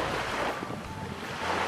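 Ocean surf rolls steadily onto Khiran beach in Kuwait, a continuous broadband wash of waves with wind buffeting the microphone, no voices.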